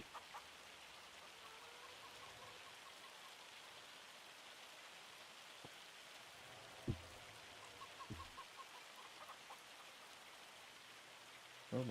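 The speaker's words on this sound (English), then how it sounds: "Oh my goodness, it's raining." Rain falling in the farming video game Farming Simulator 25, a faint steady patter with a few soft chicken-like clucks and brief knocks scattered through it.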